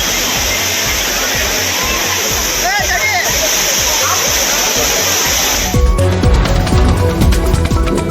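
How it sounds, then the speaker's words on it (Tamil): Steady roar of water pouring over the Courtallam waterfalls, including Main Falls, Five Falls, Tiger Falls and Old Courtallam, a dense continuous rush with heavier splashing near the end and faint voices in the background. "குற்றால மெயினருவி, ஐந்தருவி, புலியருவி, சிற்றருவி, பழைய குற்றாலம் உள்ளிட்ட அருவிகளில் தண்ணீர் வரத்து சீராக உள்ளது"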